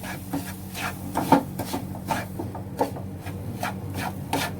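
Semolina roasting in a pan while being stirred steadily with a wooden spoon, giving a continuous close scraping and rubbing with rhythmic strokes and no talk.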